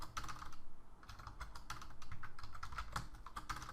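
Quick, uneven clatter of keys being struck on a computer keyboard, continuous and close up, with no voices.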